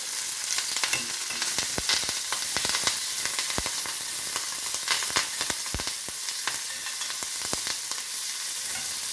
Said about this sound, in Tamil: சின்ன வெங்காயம் ரவுண்டாக கட் பண்ணி வச்சுக்கோங்க, இதையும் போட்டுக்கலாம். கூடவே கருவேப்பிலையும் போட்டுக்கலாம்.